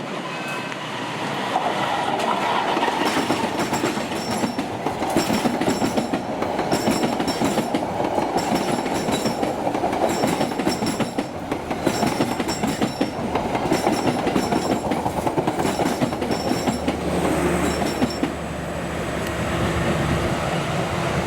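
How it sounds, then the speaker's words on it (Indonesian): An Argo Lawu passenger train passes near Karawang station in Indonesia: a loud, steady rolling rumble with rhythmic wheel clatter on the rails that lasts throughout and eases slightly near the end. No one speaks. "kereta ini telah disusul oleh kereta api Argo Laut 7 di stasiun sebelum stasiun Karawang"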